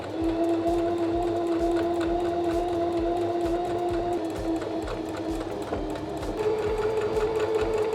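Sewing machine stitching the hem of a pair of jeans, a steady close motor whir with a rapid needle rattle running continuously for several seconds, briefly changing pitch partway through, no talking.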